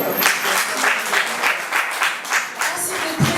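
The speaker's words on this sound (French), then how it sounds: "Je vous demande de l'applaudir, s'il vous plaît." An audience at a Paris community event applauds an honorary guest, a warm wash of many hands clapping with gentle swells in volume, fairly close and without talk over it.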